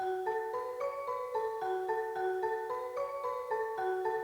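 Layered marimba and celesta from a Kontakt sample library play a bright, bouncy repeating melody, the mellow struck marimba tones topped by a bell-like celesta sparkle; clear and steady, with no talking.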